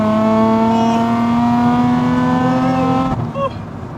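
A supercharged 2003 Nissan 350z pulling hard under acceleration, its loud exhaust and supercharger whine rising steadily in pitch, close and intense, then cutting off abruptly near the end as the revs drop.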